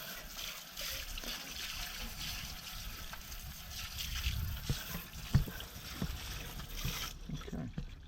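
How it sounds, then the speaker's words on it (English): Water splashes and trickles steadily as it rinses cleaning residue off a BMW alloy wheel, a close continuous wash with a few sharp knocks before it cuts off near the end. "literally just wash it off with just some water"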